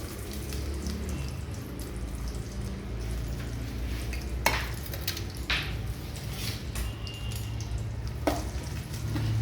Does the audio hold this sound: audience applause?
no